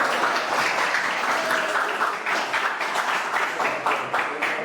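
Sustained audience applause fills a school hall after a student's speech at a high school language-month event, a dense, steady wash of many hands clapping that holds evenly throughout.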